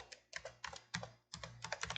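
Quiet, close typing on a computer keyboard while entering a LaTeX reference, bursts of rapid key clicks separated by short pauses, heard alone.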